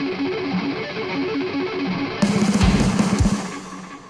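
Distorted lead electric guitar from a mix, played dry without its filter effect: a rapid repeating riff pattern that grows louder and denser midway, with low thumps joining in the second half.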